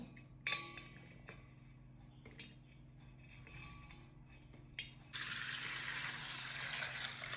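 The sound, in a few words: washing chopped touch-me-not plant in water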